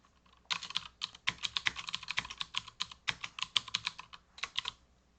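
Rapid clicking keystrokes on a computer keyboard, a close, steady burst of typing with brief pauses between words, quiet and without voices.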